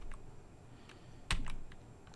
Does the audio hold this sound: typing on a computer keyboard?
yes